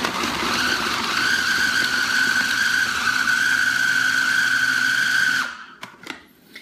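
A food processor on its chop setting whirs steadily through sweet potato for about five seconds, a loud, even motor hum that stops abruptly, followed by a few faint clicks and knocks.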